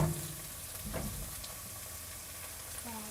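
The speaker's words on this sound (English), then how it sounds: "You want to cook your onions until they are nice and soft." Onion and garlic fry in a pan for sesame fried rice, giving a steady close sizzle with a brief stirring scrape, and no talk.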